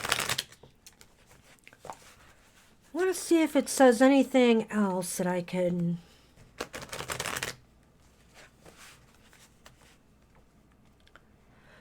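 Tarot cards are shuffled and dealt in quick papery riffles and taps, broken up by a woman's sing-song speech in the middle, with another burst of card handling after she stops.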